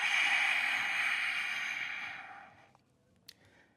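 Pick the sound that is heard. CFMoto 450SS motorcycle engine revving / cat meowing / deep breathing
deep breathing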